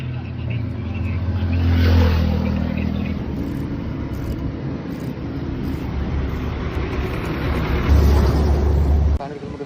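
A Royal Enfield Himalayan 411 motorcycle engine gives a low, steady rumble that swells at the start and again near the end, with voices talking over it throughout.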